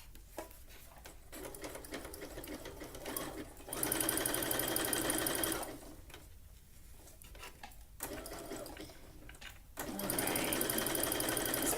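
A sewing machine zigzag stitching elastic onto a tankini, running in loud bursts of rapid steady stitching separated by short pauses, close up with no talk.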